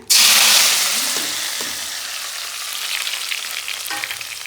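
Tomato gojju going into hot oil, a loud burst of frying that erupts at once and then settles into a steady, slowly fading sizzle, close up with a faint clink of utensils, no talking.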